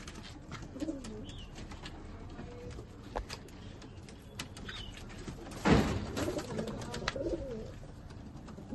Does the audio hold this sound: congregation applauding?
no